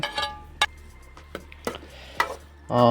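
Okra being stirred in oil in a pan for a village-style gravy, with scattered scraping clinks of a spoon against the vessel over a faint sizzle, ending in a louder scrape.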